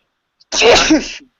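A single sharp sneeze, close and loud, with a short sharp intake just before it.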